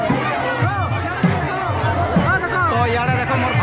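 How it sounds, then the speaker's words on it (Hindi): A large crowd at the Ratha Yatra festival in Mayabar village fills the air with loud, dense babble, with overlapping voices and occasional shouts close by. "तो बहुत सारा लोग अछन आ बहुत भीड़ भाड़ अछन मायाबरा गाँव रे।"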